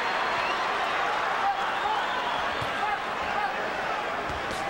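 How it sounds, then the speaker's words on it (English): Restless crowd at a boxing match, a dense steady roar of many voices and murmurs at a distance, with scattered claps and thuds. "It's a restive crowd."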